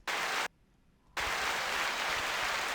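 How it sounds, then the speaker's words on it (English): Canned applause from a clapping sound button: a dense burst of crowd clapping cuts off abruptly, leaving near-silence, then a second sustained burst of applause returns loud and steady. "It's my clapping button."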